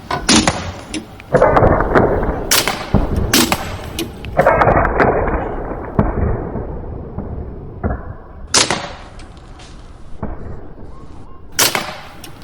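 A slingshot with 0.6 mm thick flat bands fires balls in a series of loud, sharp cracks and snaps, repeated irregularly and close by, with brief rustling and handling noise between the shots.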